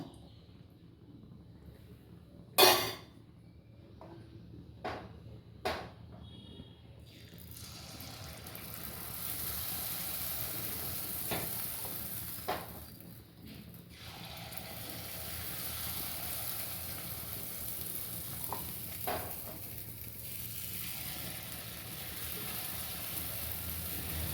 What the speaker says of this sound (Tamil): எண்ணெய் ஊற்றிட்டு நம்ம இந்த மாவை வந்து இந்த குழியில் ஒவ்வொரு கரண்டியாக எடுத்து ஊற்ற போகிறோம்